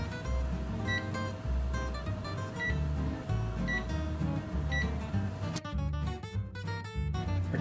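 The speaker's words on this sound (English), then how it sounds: "Our timer's gone off." A kitchen timer goes off while bread bakes in a Dutch oven, giving short repeated beeps about a second apart over steady background music, followed by a denser burst of rapid high beeping near the end.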